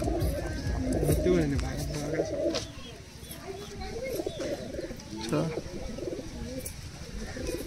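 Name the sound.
pigeons cooing in a pigeon loft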